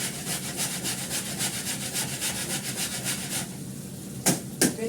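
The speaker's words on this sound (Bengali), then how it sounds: "এই কাঁচা লঙ্কার থালাটার মধ্যে আদা একটু ঘষে নেবো" Fresh ginger grated by hand over a plate holding green chillies, giving quick rhythmic rasping strokes close up, followed by a couple of sharper scrapes near the end.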